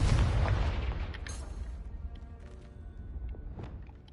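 A Confringo blasting spell explodes in a Harry Potter video game: a loud, low boom that opens the clip and then rolls into a long rumbling decay, with a few faint crackles and pops trailing off.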